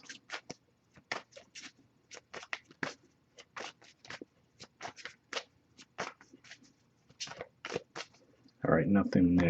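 A deck of cards is shuffled in a rapid series of crisp riffling bursts during a card reading, up close, with a louder rustle at the end.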